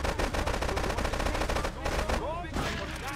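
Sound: shotgun fire in the video game Grand Theft Auto 3

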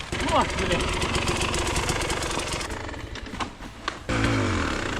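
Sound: enduro dirt bike engine idling

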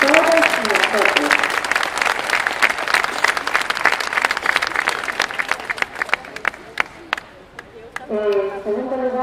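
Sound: protest crowd applause

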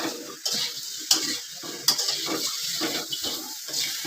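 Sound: spices and meat frying and being stirred in a pan

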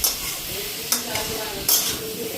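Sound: frying spices in a pan

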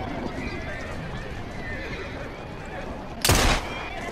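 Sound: horse neighing, from video game Assassin's Creed Syndicate

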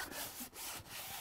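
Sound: rubbing the back of a soil art paper

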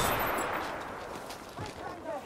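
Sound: gunfire in the video game Battlefield 5

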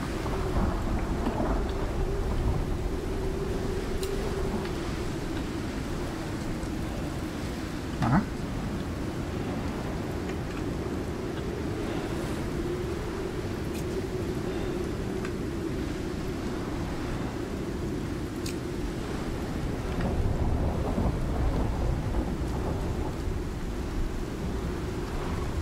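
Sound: rain and thunder in a video game

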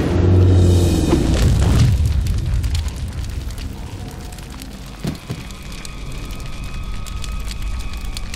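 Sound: node destroyed exploding in Mass Effect video game

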